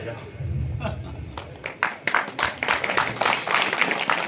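Audience applause at a Hindi comic poetry gathering, a crowd clapping in a dense, irregular patter that swells in the second half, with some vocal noise mixed in.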